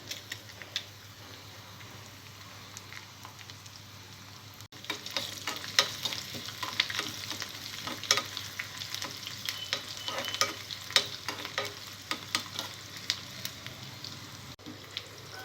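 Mustard and other tempering seeds, garlic and dried red chillies sizzle and crackle steadily in hot oil in a pan on the stove, with louder spattering pops and occasional stirring scrapes for a chutney tempering.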